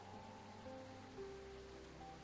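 Soft, steady rain patters in the background of the Calico indie PC game, a faint continuous hiss with light tonal game music drifting over it and no voices.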